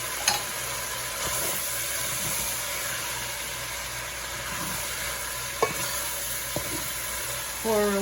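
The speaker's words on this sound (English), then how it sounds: "I have some oil and I cook the مغربيه in it." Moghrabieh, Lebanese pearl couscous, fries in oil in a pot with a steady, moderately loud sizzle and crackle, broken by a few sharp stirring knocks and scrapes.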